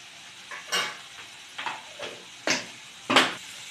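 Spices sizzling in mutton fat for a pumpkin curry, stirred with a spoon that scrapes the pan in about six short, sharp strokes over a soft, steady hiss, close up with no talk.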